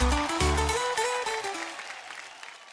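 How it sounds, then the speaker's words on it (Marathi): A television studio audience on a Marathi game show applauds loudly and steadily, a continuous wash of clapping over a fading musical sting, gradually tapering off. "जोरदार टाळ्या"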